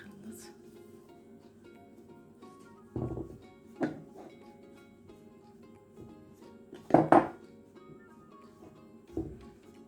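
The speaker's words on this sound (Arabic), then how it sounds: "وغادي نخلط" Egg and salt being mixed in a bowl, with a few scattered clinks and knocks of a utensil against the dish under steady talking.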